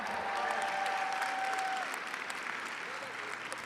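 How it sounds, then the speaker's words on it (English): A live auction crowd applauds a company CEO with a dense, steady wash of clapping that holds at an even level for a few seconds, with a faint tone and some voices mixed in. "Round of applause for Varun."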